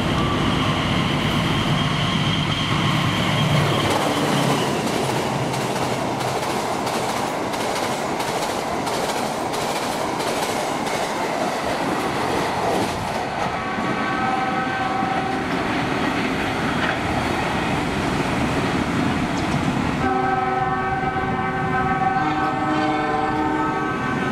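A train runs past on an Indonesian railway line, loud and close. Steady rolling rumble and wheel clatter continue throughout, and a sustained horn sounds in the second half, with long tonal blasts from about 13 seconds on.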